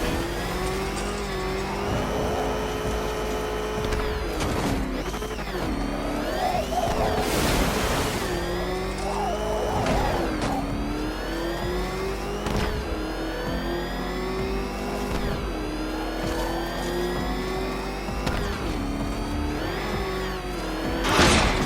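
A car engine in the video game Batman Arkham Knight drives loudly and continuously, revving up and down with rising and falling pitch for the whole stretch, close and prominent with no talk.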